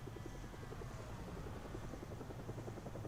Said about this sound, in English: There you are, helicopter.